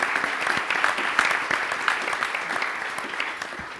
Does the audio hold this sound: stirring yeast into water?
no